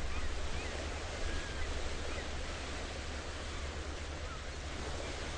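Broadband wash of sea waves on a sandy, shallow shore with clear water, a steady roar with gentle swells, fairly close, no voices over it.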